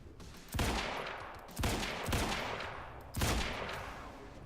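Rifle fire in Quantum Break, three separate loud sharp shots spaced about a second or more apart, each followed by a booming echoing decay.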